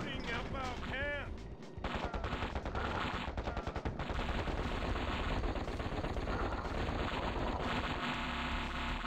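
Gunfire from units attacking a camp in KKnD Evolved: rapid machine-gun bursts and crackling shots pour out continuously and loud for several seconds, with a brief voice at the start.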